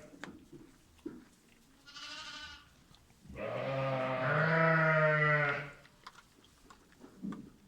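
Zwartbles sheep and lambs, including ewes with twins, bleat in a few calls, one long loud wavering bleat in the middle, with softer short bleats before and after, close by.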